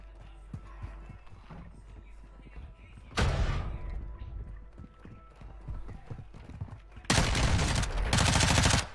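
Gunfire in the video game Call of Duty Warzone, two loud bursts of rapid automatic shots separated by quieter stretches with clicking, footsteps and other game sounds.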